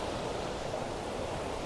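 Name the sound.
Līgatne river water flowing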